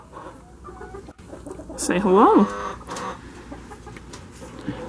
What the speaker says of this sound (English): Now, for the main attraction, here we got some chickens.